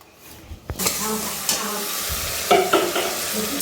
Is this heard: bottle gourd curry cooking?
yes